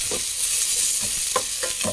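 Onion frying in a pan until golden brown for traditional miswa with sardines, a steady close sizzle with a few scraping stirs of a utensil across the pan.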